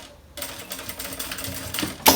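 A sewing machine stitches a seam on a two-tone quilted bag, a quick rapid whirring chatter that starts abruptly and runs close and steady for about two seconds.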